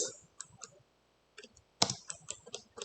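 Computer keyboard typing a command in Rhino3d: sharp, close key clicks in quick bursts separated by short pauses, with a louder cluster of taps toward the end.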